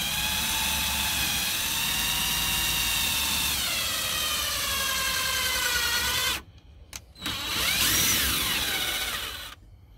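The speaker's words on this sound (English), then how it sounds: "So now we're drilling 3-inch screws into the legs." Cordless drill driving 3-inch screws into wooden bed legs for a minivan camper bed build, a loud whining motor held steady for several seconds, briefly stopping, then revving again close to the microphone.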